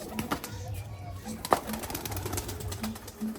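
Rajshahi Giribaz pigeons coo in soft low bursts, several close calls spread through the moment, with a voice talking intermittently over them and a few sharp clicks of handling.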